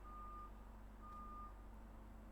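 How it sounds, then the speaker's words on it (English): A truck backing up outside a window emits a steady series of high, evenly spaced reversing beeps, two long tones across the short span, over a low constant engine rumble. "This dumbass truck outside my window, by the way, has been backing up for like the past 4 minutes."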